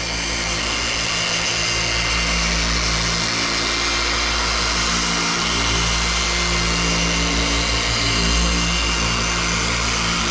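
A car paint polisher runs with its pad on a 1962 Chevrolet Nova show car, a loud continuous buzzing whine with a low hum that wavers slightly as the pad moves, close and without talk.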